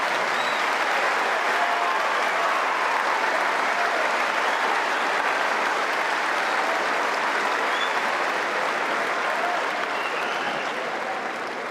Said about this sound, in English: a huge cheer for the players as they walk out onto centre court